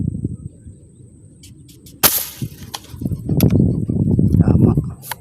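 An air gun fires a single sharp, loud shot while fishing outdoors, standing out against a low murmur of background noise, with people talking afterward.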